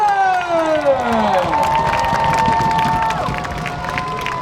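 Hometown crowd at a Renegade Monster Truck Tour show in Gaithersburg, Maryland, cheering and roaring steadily and loudly, with whistling tones and rumbling mixed into the din.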